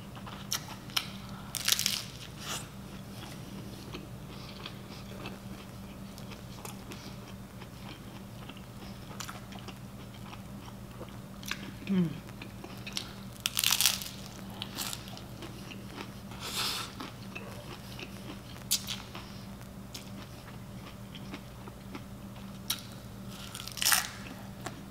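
Close-up chewing of Taco Bell tacos during a mukbang: wet, crunchy bites and smacking mastication spread across the clip, with a few louder crunches standing out over a low steady hum.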